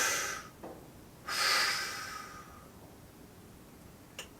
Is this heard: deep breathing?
yes